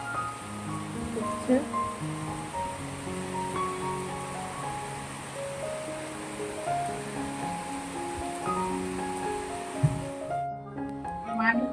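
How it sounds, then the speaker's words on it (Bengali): Heavy rain pours down over a village, a steady wash of hiss running under a person's voice and other tonal sounds throughout, with the background dropping away near the end. "এই যে দেখো পুরো একদম অঝরে বৃষ্টি"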